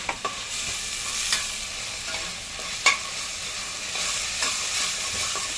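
An onion, coriander, garlic and chili paste sautéing in a pan: a continuous close sizzle broken by occasional scraping stirs of a spoon, steady and moderately loud, with no voice.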